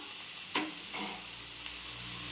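Green chilies tossed into a hot frying pan for a banana-flower curry set off a sharp burst of sizzling, then a steady, fairly loud hiss of frying; no voice is heard.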